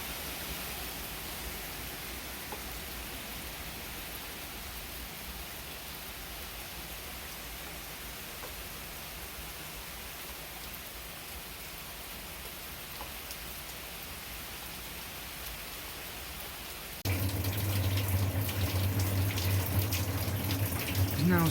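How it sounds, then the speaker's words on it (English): Steady heavy rain pours down during Hurricane Ian, a dense even hiss that holds throughout and then grows louder and fuller near the end as a gust of wind seems to pick up. "Still raining."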